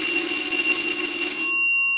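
A church boiler's electric alarm bell rings loudly and continuously in a plant room, then cuts off abruptly, leaving a fading ring.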